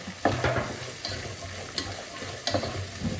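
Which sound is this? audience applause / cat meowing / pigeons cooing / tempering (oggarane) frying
tempering (oggarane) frying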